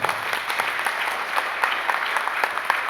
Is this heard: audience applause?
yes